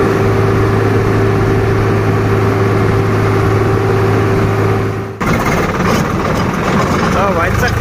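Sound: Farmtrac or Swaraj tractor engine pulling an overloaded trolley

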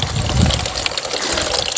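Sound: spring water flowing at the foot of a cacahuananche tree

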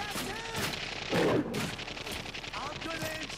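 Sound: gunshots from the video game The Darkness

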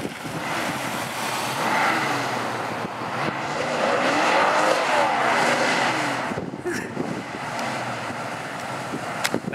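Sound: Dodge Dart doing a burnout, tires squealing

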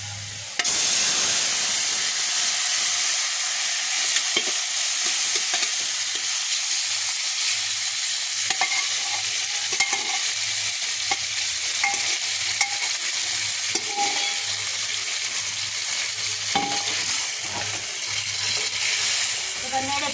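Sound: boiled vegetables stir-frying in pan

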